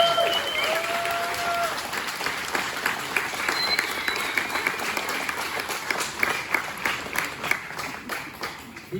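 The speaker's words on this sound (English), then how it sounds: "give him a big round of applause." An audience claps steadily in honor of Ricardo Padilla, dense continuous applause filling a hall at a Royal Chicano Air Force exhibition event, with faint crowd murmur underneath and a few higher tones cutting through early on.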